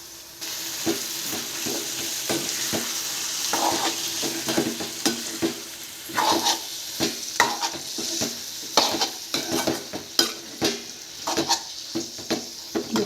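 Onions and chopped tomatoes sizzle steadily in a pan for a Tamil tomato kadayal, with repeated scraping stirs of a spatula knocking through the frying hiss, close and alone.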